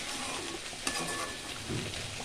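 A pot of garlic and curry-leaf kara kuzhambu curry bubbling and sizzling at a steady low level, with a brief clink of a utensil partway through.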